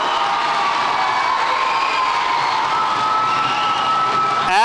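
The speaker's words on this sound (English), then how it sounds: "Can we get just one more big round of applause for our band and chorus?" A middle school audience applauds and cheers loudly for its band and chorus, a dense, continuous roar of clapping and voices with a tone sustained beneath.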